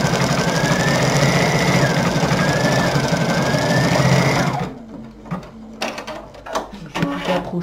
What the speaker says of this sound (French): maintenant, j'appuie ici et la broderie démarre